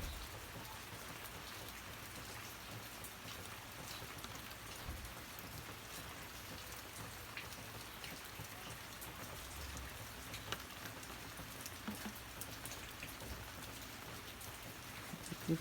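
Steady rain falls on a Hawaii yard full of plants, a dense, even patter of drops on surfaces continuing throughout with no voices, only a few slightly louder drips near the end.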